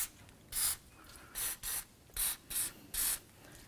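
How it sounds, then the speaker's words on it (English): Penetrant is sprayed in six short hissing bursts onto stuck brake caliper pins on a 2007-or-later Toyota Tundra front brake, each spritz about a third of a second, with quiet gaps between. "so I'm just going to spray it with some penetrant."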